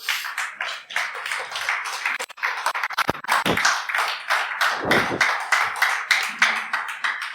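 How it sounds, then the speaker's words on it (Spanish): A church congregation claps loudly together during a Sunday morning service, producing a dense, sustained burst of handclaps with a few sharper individual claps standing out near the front. "Dale un fuerte aplauso al Señor"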